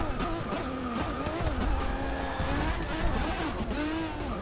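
A video-game race car's engine drones and shifts pitch in rising and falling sweeps, with occasional tire-squeal textures, continuous and fairly loud throughout.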